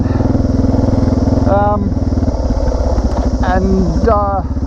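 A motorcycle engine, just fitted with a new chain and sprockets, drones loud and steady with a pulsing throb while ridden at speed, and a voice speaks briefly over it.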